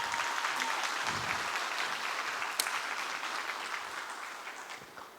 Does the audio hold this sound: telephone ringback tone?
no